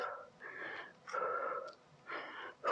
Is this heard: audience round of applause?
no